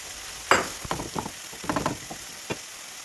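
Chunks of chicken dropped into a hot pan with onion, giving sharp sizzling bursts as the pieces land and are stirred, with quieter crackling between them.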